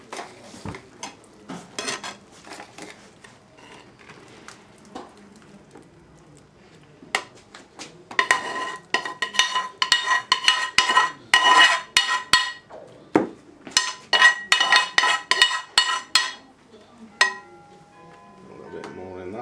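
Dishes and metal utensils clink and clatter while tarka dhal is served into bowls, in a quick irregular run of sharp knocks that grows busy and loud midway, with quieter scraping before and after.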